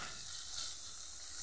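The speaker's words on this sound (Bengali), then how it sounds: "এইভাবে আমি একদম লাল করে ভেজে নেব" Food frying in a pan while chicken biryani is made, a close, continuous hissing sizzle of hot oil holding steady throughout, with no talking.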